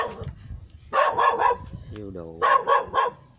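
A dog barks in a fruit orchard in Dong Thap, with two close bursts of several quick barks, mixed with people talking nearby.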